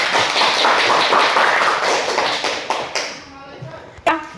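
A classroom of students claps during a history lesson, a close, loud burst of many hands that breaks up into a few separate claps and a sharp final slap, with voices mixed in.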